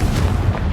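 Confringo fire spell exploding in Hogwarts Legacy, a short, loud, booming blast with a deep rumbling body that fills the whole moment.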